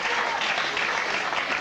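Steady, dense applause from an arena crowd at a Mosconi Cup pool match, loud and continuous throughout with no pauses.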